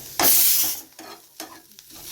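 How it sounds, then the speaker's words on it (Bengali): Red spinach frying with garlic tempering in a pan, a sharp burst of sizzling followed by a few scraping stirs, close and fairly loud, with no talking. "এদিকে হচ্ছে রসুন ফোড়ন দিয়ে লাল শাক ভাজা"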